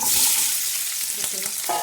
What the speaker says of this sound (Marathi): त्याच्यात दोन चमचे तेल घातले त्याच्यामध्ये ह्या मिरच्या घालणार आहोत